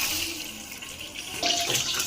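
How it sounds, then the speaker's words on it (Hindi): Rice poured into a pot of boiling water, a soft hiss and splashing bubbling that rises in a brief burst toward the end, close and steady with no talking. "तो अब हम इसमें चावल डालेंगे।"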